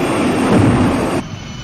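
A crashing plane in a puppet TV show gives a loud, broad roaring rush of engine and wind noise that holds steady, then cuts off abruptly into a quieter hiss.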